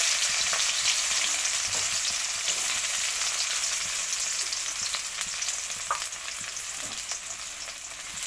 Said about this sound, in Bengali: পেঁয়াজটা একটু ভেজে নিতে হবে হালকা।